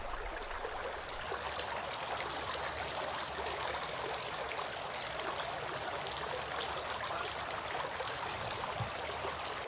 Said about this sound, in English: Then he sniffed water into his nostrils using his right hand and blew out using his left hand 3 times.